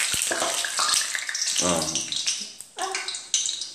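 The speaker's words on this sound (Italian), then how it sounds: "E lo friggiamo." Cannoli shells dropped into hot oil give a loud, hissing sizzle with bubbling bursts, steady over a few seconds with one short dip partway through.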